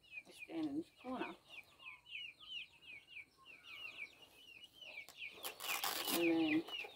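Chickens cluck and squawk close by, with a louder burst near the end, while smaller birds twitter continuously in the background.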